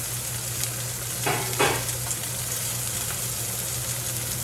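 Quail topped with rosemary sizzle steadily in a hot pan, a constant crackling fry with a low hum beneath and a couple of brief scraping stir sounds near the start.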